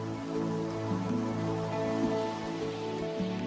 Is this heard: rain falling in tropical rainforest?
yes